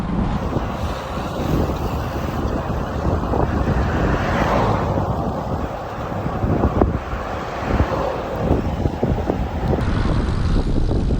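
Steady, loud wind buffeting the microphone while cycling a windy time-trial stretch in a paceline through countryside after Cormons, a continuous roar with gusty swells and no talk.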